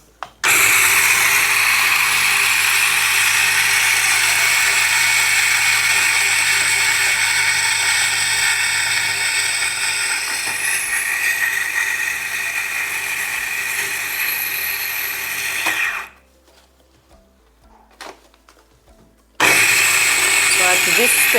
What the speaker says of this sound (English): we've got our grinder, we've ground, so let's get it going.